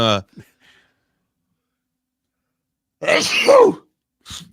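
A single sharp sneeze bursts out after a quiet pause, followed by a brief short vocal sound; loud and close.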